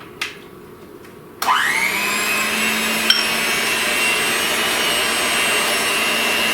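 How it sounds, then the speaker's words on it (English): An electric mixer starts after a couple of faint knocks, then whirs in a steady, loud, high-pitched drone while blending pink champagne bundt cake batter in a bowl. "I'm going to mix this with my electric mixer till it's all combined"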